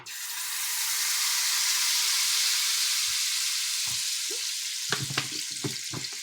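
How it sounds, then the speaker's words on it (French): Red palm oil heats in a pot for a Cameroonian yellow sauce, a soft steady hiss swelling gradually, followed by a few clinks and knocks of utensil against the pot toward the end. "maintenant, on va chauffer notre huile"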